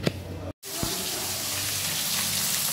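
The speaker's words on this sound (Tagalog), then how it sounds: "maglinis na ng isda nating nahuli sa dagat" Water runs steadily from a tap, a loud continuous hiss after a brief cut, as freshly caught sea fish are washed at home.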